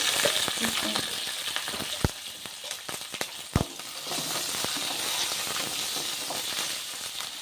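Oil sizzles steadily in a pan as mint chutney ingredients fry, a broad crackling hiss with sharp pops and spatters scattered throughout, close and fairly loud with no voices.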